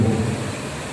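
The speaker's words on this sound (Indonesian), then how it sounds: "hujan ini adalah berkah sambutan dari Allah" Steady rain with a low thunder rumble, loud and close, filling the whole second with no voices.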